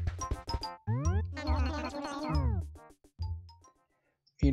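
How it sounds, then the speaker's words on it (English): A pet cat meows several times in close succession, drawn-out tonal cries rising and falling, loud and near with short pauses between calls and no talking. "Meanwhile, my cat, Lexi, has just been in my lap this whole ti"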